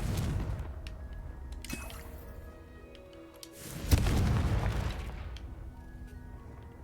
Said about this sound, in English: 역시 폭발하는 마법.